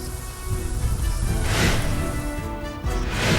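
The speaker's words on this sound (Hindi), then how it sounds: "बीती रात मुंबई में कई जगहों पर झमाझम बारिश से लोगों को गर्मी से मिली राहत" Heavy monsoon rain pours down across Mumbai at night, a loud, steady broadband hiss with no voices over it.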